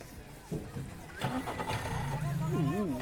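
A Yamaha engine starts at the Sakrebailu elephant camp near Shivamogga, a low engine rumble rising and settling into a steady running hum, with people talking over it throughout.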